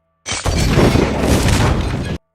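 A bomb detonating inside a building toilet in a film, a sudden loud boom bursting into a dense roar of blast and debris that holds for about two seconds before cutting off.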